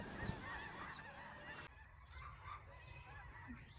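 Several geese honk while flying over a farm, their calls distant and outdoors, repeating irregularly over steady background noise, then continuing fainter after a change in ambience.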